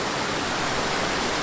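Waterfall with several individual streams, heard as a steady, dense broadband rush of falling water that stays close and constant throughout.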